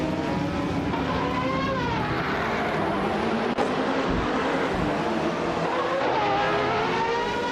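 A 1983 Sauber C7 race car in a racing video game, engine revving and shifting with rising and falling whines, other cars roaring close by, and a brief skid-like sweep, continuous and loud, with no talking.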